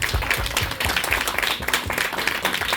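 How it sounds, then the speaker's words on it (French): An audience claps warmly at a talk with a singer, dense fairly close applause with no voices over it. "On t'applaudit chaleureusement parce que franchement"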